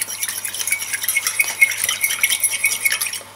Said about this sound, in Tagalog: So, haluin lang natin ito.